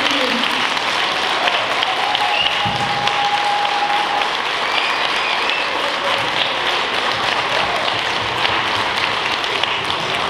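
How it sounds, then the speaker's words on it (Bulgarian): At a Bulgarian school's 30th anniversary concert in Vancouver, an audience gives sustained applause, a steady roomful of clapping that lasts throughout with little change in level, with faint voices underneath. "Моля за вашите аплодисменти за тези красиви и сърцати хора"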